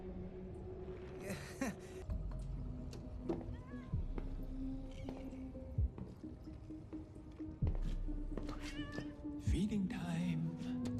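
A cat meows several times in the animated series Arcane, short plaintive cries scattered among clicks, drips and soft squishy noises, with voices talking faintly in between.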